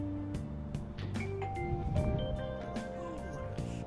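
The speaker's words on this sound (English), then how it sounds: "Even after ringing the doorbell, it doesn't look like anyone will answer the door." Synthesized chime tones ring out in a melodic sequence over a low humming background, an electronic doorbell in the video game Persona 5 Royal.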